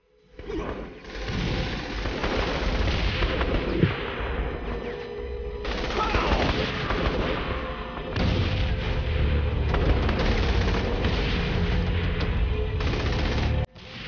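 Gunfire in Saints Row: The Third crackles in rapid, overlapping bursts with heavier booms, loud and nearly continuous from start to finish, broken by a short lull near the middle.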